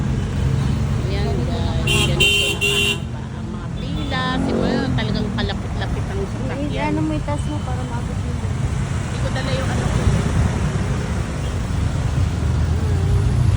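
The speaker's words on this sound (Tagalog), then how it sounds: "Grabe oh, walang katapusan na traffic." Dense morning traffic on Mabini Street in Manila rumbles steadily, with a few short car-horn toots early on, while people talk nearby throughout.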